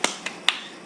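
Three sharp, separate claps or snaps from a child in an online Sunday school clapping game, close and crisp, unevenly spaced within a second.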